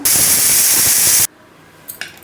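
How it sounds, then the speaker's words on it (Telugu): Steam bursts from a pressure cooker whistle while a Telugu-style mixed vegetable curry cooks over a medium flame. A loud, steady hiss runs for over a second, then cuts off abruptly, followed by faint light clinks. "ఇప్పుడు కుక్కర్ మూత పెట్టేసి ఒక విజిల్ రానివ్వండి చాలు"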